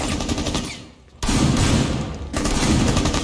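Loud shotgun blasts from Rainbow Six Siege gameplay, two heavy booming shots separated by a brief lull, each followed by a sustained roar of reverberating gunfire, with no talking.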